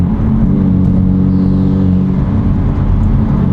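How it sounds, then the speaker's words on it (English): A BMW F82 M4 fitted with a valvetronic exhaust driving on the road, giving a loud, steady low engine drone and exhaust rumble heard from inside the car, without speech. "Not sure how well you guys can hear the exhaust either."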